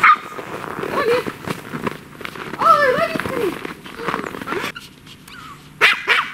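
Dogs bark and yip in a snowy forest, among them a Pomeranian spitz and a Samoyed, with sharp nearby barks in bursts and a whimper, while people talk in between.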